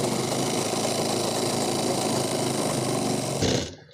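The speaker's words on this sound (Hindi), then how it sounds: "सिलाई लगाने के बाद अब आपको यहाँ पर लगाना है डबल सिलाई।" A sewing machine runs steadily while double-stitching a seam on a pair of pants, a continuous close mechanical whir that stops abruptly near the end.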